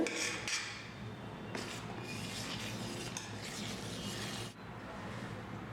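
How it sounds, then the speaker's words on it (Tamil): Steady rasping, rubbing sounds of flour being kneaded by hand with hot water into kozhukattai dough, continuous and close, with a few brief pauses. "இந்த மாதிரி கொஞ்சம் கொஞ்சமாக ஊற்றி பிசைய ஆரம்பிங்க"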